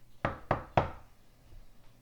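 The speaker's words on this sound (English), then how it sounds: "give it a firm knock" Three firm, evenly spaced knocks rap on a door, close and sharp, followed by quiet.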